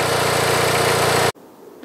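A rice transplanter's engine idles with a steady, close, even drone, then cuts off abruptly, leaving near-silence for the final half second.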